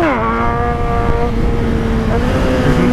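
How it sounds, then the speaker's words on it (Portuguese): A motorcycle held up on its rear wheel in a wheelie, its engine droning loud and close with a steady, slightly rising pitch that holds throughout without any speech. "Tá uma delícia empinar essa moto, mano."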